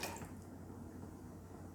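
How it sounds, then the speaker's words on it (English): Gyokuro green tea from 2019 poured from a height into a cup, a steady soft liquid trickle and splash after a brief louder start. "Pour that into there."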